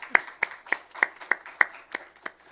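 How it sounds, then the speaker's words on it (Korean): A church congregation claps in welcome during a Korean worship service, about eight crisp claps in an even, steady rhythm with short gaps between them. "우리 박수로 환영하도록 하겠습니다."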